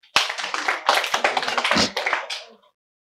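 A small workshop audience claps for the facilitators, a close, lively burst of many hands beating in quick overlapping slaps for a couple of seconds before stopping abruptly into silence.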